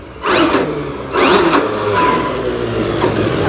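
A Traxxas XRT RC truck on the factory pinion runs at about quarter throttle, with two rising electric motor whines and a steady buzzing drive noise alongside, close and fairly loud with no talk.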